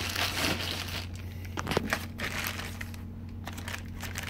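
A plastic shipping bag holding Asics Gel Venture 6 shoes is handled and pulled open by its tab, giving soft, continuous crinkling and rustling close by with no talking.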